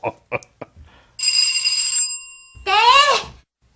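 After a few soft knocks, a bright bell-like chime rings for about a second, followed by a warbling electronic trill, close and clear.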